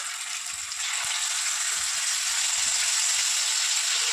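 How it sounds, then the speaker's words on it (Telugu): Chicken pieces fry in hot oil with a steady, dense sizzling hiss that holds evenly throughout, close up, with faint low clicks and knocks underneath and no talking. "ఇంకొన్ని ఉండే కదా పీసులు, అవి కూడా వేసేస్తున్నాను నేను ఇది ఆయిల్లో"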